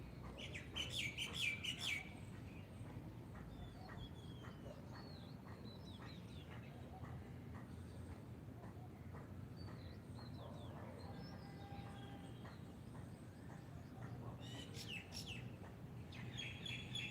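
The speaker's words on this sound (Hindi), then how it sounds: "कुछ पल के लिए पक्षियों की आवाज़ को सुनने का प्रयास करें" Birds chirp and sing outdoors during a morning yoga session, with scattered faint tweets and a louder burst of calls at the start and near the end, over a steady low background rumble.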